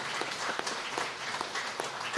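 A church congregation applauds as its elders bow during a New Year's Eve service in Mungyeong, a steady, dense clatter of many hands clapping across the whole short stretch, with no voices on top.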